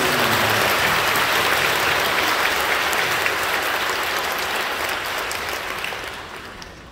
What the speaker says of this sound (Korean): 우리 강성 목사님에게 다시 한번 큰 감사의 박수를 드립니다.